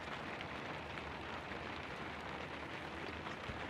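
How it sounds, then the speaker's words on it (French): Heavy rain hisses in a dense, steady wash of noise, constant and even, with no voices. "Ouais, il pleut. Il pleut beaucoup."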